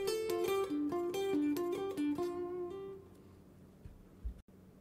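Single electric guitar plays a quick solo phrase from a rock song, a run of bright picked notes with hammer-ons ending on a held note on the third string, clear and close, then decaying to near silence.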